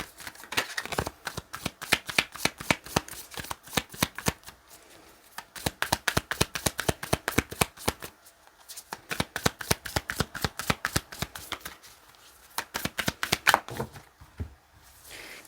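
Flower-language cards being shuffled by hand: long runs of quick, crisp riffling clicks, loud and close, broken by short pauses between shuffles.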